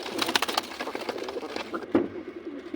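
Pigeons of sesame, musky and grey colouring coo softly nearby in a series of short, low, throaty calls, with faint background noise between them.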